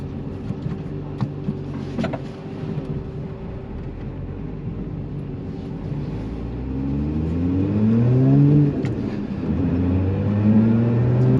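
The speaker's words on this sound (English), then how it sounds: "Just got to turn the car around now, come to a situation where the road's ended." A Lotus Emira sports car idles, then its engine rises and falls in pitch through low-speed revs as it turns around where a road ends, growing louder in the second half.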